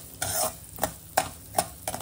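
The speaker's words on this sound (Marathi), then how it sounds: "त्यामध्ये आता मी ही भगर भाजून घेणार आहे।" Barnyard millet (bhagar) is roasted in hot ghee. Four or five distinct scraping strokes of a spoon drag through the grains against the pan, alone and close, with a faint sizzle underneath.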